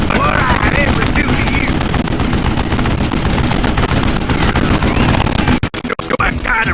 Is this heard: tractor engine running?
no